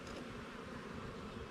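Bees buzzing in a beehive, a dense, steady close-up drone that fills the brief moment with no talking.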